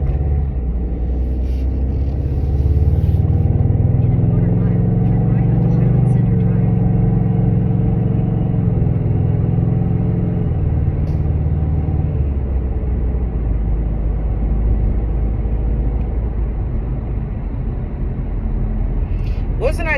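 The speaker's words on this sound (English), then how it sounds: "Let me beat this damn traffic." A car drives through traffic with a steady engine rumble and road noise throughout, swelling as it accelerates for several seconds before settling back to a low drone.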